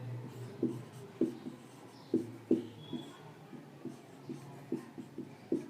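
Pen writing math on paper: short scratchy strokes and taps in an irregular rhythm, close and quiet, with no talking.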